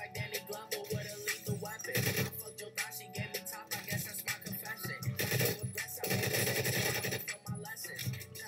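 Rapid automatic gunfire in a Roblox shooter fills the clip in dense loud bursts and sprays, with other game sounds layered in and no clear talk.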